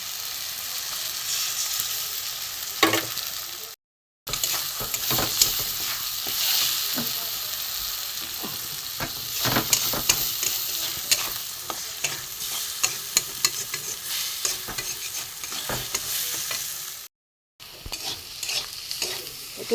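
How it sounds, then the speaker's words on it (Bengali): Eggs frying and being stirred with spices, onion, garlic and ginger for a dhaba-style egg tadka: steady close sizzling with frequent utensil scrapes, broken by two brief silent gaps, no voices. "দুটো ডিম দিয়ে মশলার সাথে পেঁয়াজ, রসুন, আদা সমস্ত কিছু দিয়ে একটু ভালো করে ডিম দিয়ে কষিয়ে নেব।"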